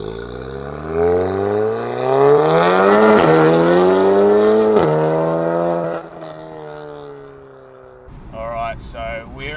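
Audi TT engine revving up through rising gear-like pitch sweeps, loud and close, then easing off as the car drives away, with voices briefly heard at the end.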